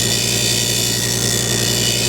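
Bench grinder fitted with a coarse 46 grit grinding stone, a loud, steady motor whine with dense abrasive hiss, continuous and close throughout.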